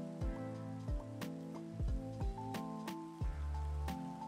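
Rain falling in Minecraft on the All the Mods 8 modpack, a steady patter running under a string of sharp game clicks and short tonal blips, with no talking.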